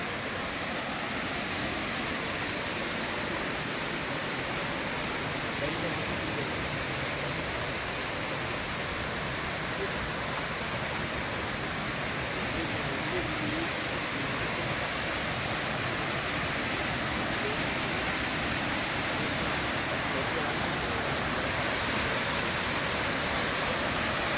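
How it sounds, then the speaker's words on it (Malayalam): A mountain waterfall in Vattavada cascades down the hillside, a constant broadband rushing roar of falling water, steady and unbroken throughout with no voices. "ഇതാണ് അതിൻ്റെ മേലെ മലമുകളിൽ വെള്ളം ചാടി വരുന്നത്"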